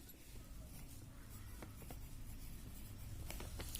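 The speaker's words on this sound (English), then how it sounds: "So we will write this answer here." A pen writes an answer on paper, making faint scratchy strokes with small ticks and taps, close but quiet over a low background hum.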